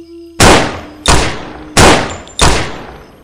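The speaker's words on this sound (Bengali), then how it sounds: "তাড়াতাড়ি কোমর থেকে রিভলভারটা বের করে কয়েকটা গুলি ছুড়লাম।" Four loud, sharp revolver shots fired in quick succession indoors, each a sudden blast with a decaying echo, spaced roughly two-thirds of a second apart.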